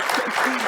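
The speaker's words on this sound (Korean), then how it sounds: "그래서 박수 한번 좀 부탁드리겠습니다" An audience at a carbon-neutrality innovation technology forum held at Seoul National University breaks into applause. It comes as a brief, loud, dense burst of clapping.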